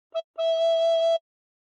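Recorder notes played with the thumb hole pinched and fingers covering holes one to five: a short note, a pause, then one long steady pure tone, clear and close, then silence.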